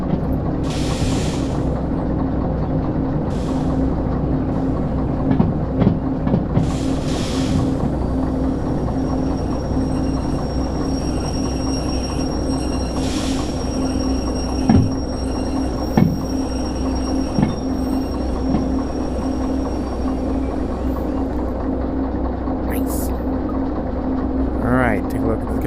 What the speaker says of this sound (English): Let's bring the train to a halt before the next switch.